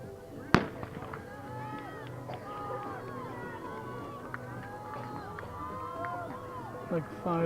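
A starting gun fires one sharp, loud crack at the start of a track meet race. Running feet, crowd noise and scattered voices follow in the background.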